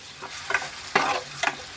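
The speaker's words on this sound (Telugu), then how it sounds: "ఉల్లిపాయ పేస్ట్ మిక్సీ పట్టుకున్నాం కదా అది ఇప్పుడు ఇందులో వేసుకుని" Onion paste fries in oil for a stuffed brinjal curry, a soft sizzle close by punctuated by three or four scraping stirs of a spoon against the pan over a couple of seconds.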